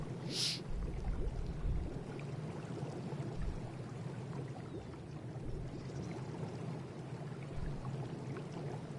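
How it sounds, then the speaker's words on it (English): Steady stream of water pouring from an irrigation tap into a greenhouse build in the video game ARK, a continuous even splash with a brief brighter spurt near the start. "You have the water running right into it"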